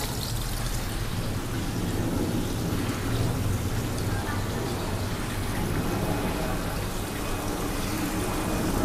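Water falls from a waterfall into a newly filled pond, a dense, steady rushing splash that carries on without pause, close and full.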